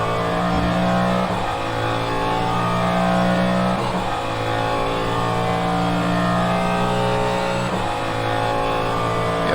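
Cadillac DPi-V.R prototype race car in a racing simulator, its engine droning and revving steadily with brief dips at gear changes, heard from inside the car.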